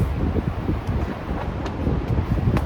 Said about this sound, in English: it's gusting about 30 mph wind, so yeah, it's pretty strong wind